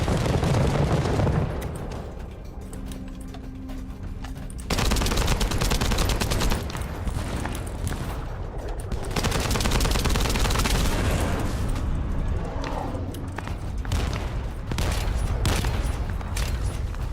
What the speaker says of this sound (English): Oh, it's a shotgun, okay.